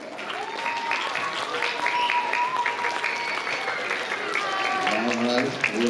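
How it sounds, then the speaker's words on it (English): An audience at a school math competition award ceremony claps for the prize presenters, a steady, dense round of applause from a sizable crowd that holds throughout, with a few voices faintly audible beneath it. "Give them a round of applause."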